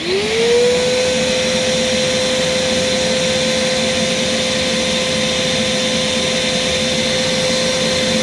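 Kenmore Progressive vacuum cleaner running on its main motor alone, a loud steady whine that rises in pitch at startup and then holds a constant tone with broad airflow noise, no talk.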